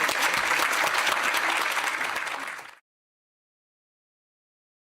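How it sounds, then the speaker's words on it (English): An audience applauds the speaker Shin at a talk on democracy and human rights, loud sustained clapping for under three seconds that then cuts off abruptly into silence. "Please let us again applaud Shin for coming here today and telling us about this."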